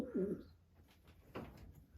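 Racing pigeons coo in a loft, with one low, throaty coo standing out near the start and a second softer coo following a little later.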